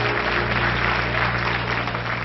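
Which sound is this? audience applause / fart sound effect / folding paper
audience applause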